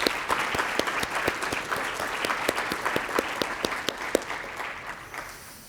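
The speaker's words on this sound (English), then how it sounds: "I think you all deserve a round of applause for keeping us on track" Audience at a partners' meeting panel and closing session applauds warmly, a full, even clatter of many hands with crisp individual claps poking through, tapering slightly at the end.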